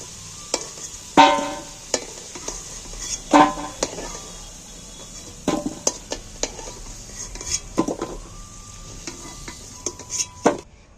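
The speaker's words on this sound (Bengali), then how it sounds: "আলুগুলো একদম সম্পূর্ণ লাল লাল করে আলুগুলো ভাজা হয়েছে এবার আমি আলুগুলোকে একটা জায়গার মধ্যে তুলে দিচ্ছি" Potatoes fried deep red in oil are stirred and lifted out of the pan, with sharp metal utensil scrapes and clinks recurring over a steady low sizzle, fairly close and with no talking.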